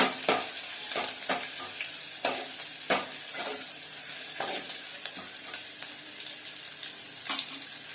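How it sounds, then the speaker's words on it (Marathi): Onion and curry leaves sizzle in a hot pan for a Marathi dry fish curry, with a utensil scraping and stirring in repeated strokes over a continuous frying hiss, close by and unvoiced. "कढीपत्ता टाकला, कांदा, कांदा चांगला लाल करूया आपण।"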